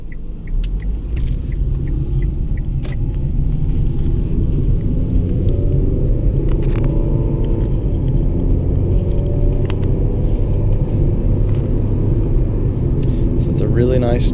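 A car driving along a road, heard from inside as a steady, loud low rumble of engine and tyres that continues evenly throughout, with a few faint higher clicks.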